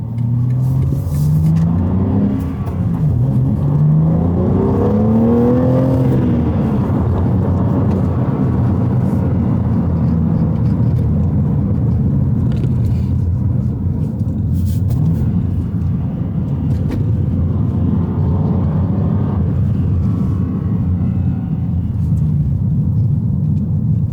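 BMW G80 M3 fitted with a Milltek exhaust, valves closed and not in M mode, gives a steady, loud engine rumble across the whole stretch, with a few rising and falling rev sweeps early on and no pops.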